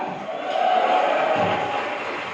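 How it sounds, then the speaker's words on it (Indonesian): Audience applause and cheering from a crowd at an on-stage comedy performance, a dense steady wash of clapping that swells after the first half second and holds fairly loud throughout. "Langsung tepuk tangan saja untuk Akbar"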